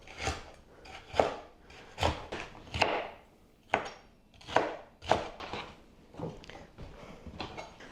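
A knife cuts through capsicum on a cutting board in sharp, close chops, roughly one every second, each with a crisp crunch and board knock, without any voice.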